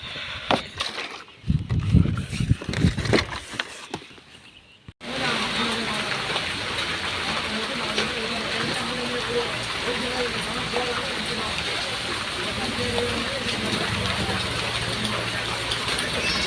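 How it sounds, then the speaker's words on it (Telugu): Steady rain pours down over a flower farm, a dense, even hiss that starts abruptly after a few seconds of quieter rustling and handling noises, then continues loud and unbroken. "వర్షం అయితే స్టార్ట్ అయిందండి."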